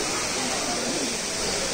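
Water pours steadily over the Bhardari Dari waterfall in Sonbhadra, running in full flow with a close, continuous rushing roar while a person talks.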